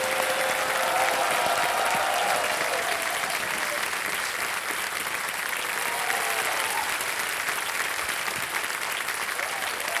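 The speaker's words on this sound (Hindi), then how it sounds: "तालियां बज जाए इनके लिए।" Studio audience applauding on the KBC game show, a steady, dense wash of clapping holding for the full stretch, with a host's voice faintly threading through near the start.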